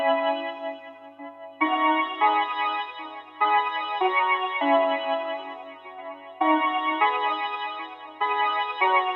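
Soloed synthesizer chords played on the Hypha instrument, sustained bright chords that change in blocks every second or two, with a chorus-like shimmer and no other sounds.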